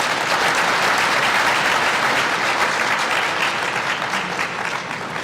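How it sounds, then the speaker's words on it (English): Steady, dense applause from a large audience at a book launch marking 150 years since the Sagrenti War, loud and sustained throughout before easing slightly at the end, with no talk over it. "A round of applause."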